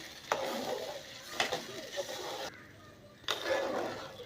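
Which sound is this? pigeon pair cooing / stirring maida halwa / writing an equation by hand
stirring maida halwa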